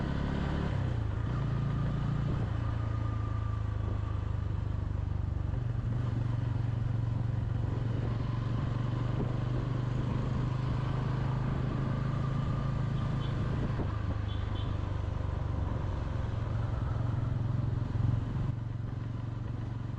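A new Bajaj Pulsar N160 motorcycle rides through Colombo at midnight, its engine droning steadily and close throughout with road noise and wind, and no talking.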